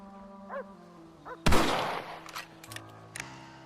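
A single sharp rifle shot cracks out midway through a quiet Red Dead Redemption scene and rings off for a moment, with softer thuds after it and brief tonal game sounds before it.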